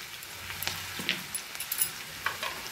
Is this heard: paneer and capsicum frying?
yes